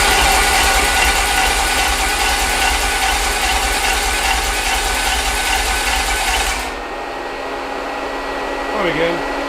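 The starter cranks a rat rod engine with its spark plugs removed, giving a loud, rapid, even mechanical whirring. It cuts off abruptly near the end, and a faint voice follows.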